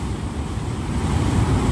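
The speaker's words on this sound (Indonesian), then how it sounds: "Sangat kencang ini banjirnya ini." Fast-flowing flood water rushing past a bridge near Gladak Perak, a dense, steady roar with no letup, loud and close.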